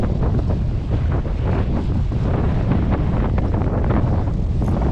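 Strong wind at a boat ramp at night buffets the microphone in a loud, continuous roar, with gusty surges throughout and no voices.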